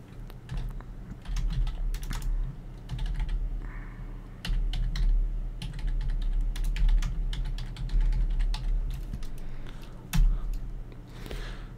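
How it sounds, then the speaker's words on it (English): Close, rapid keystrokes on a computer keyboard clatter in irregular bursts and pauses over a low steady hum, with no speech. "It's really hard to see what I'm typing"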